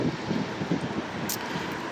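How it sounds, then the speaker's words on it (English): Wind rushes and rumbles against the microphone in a steady, muffled roar with slight gusting, no voices present. "It's kind of windy and breezy."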